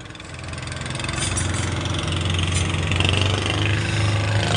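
A ship's main engine running in the engine room, a loud, steady low rumble with a rhythmic mechanical pulse that builds slightly and holds constant throughout.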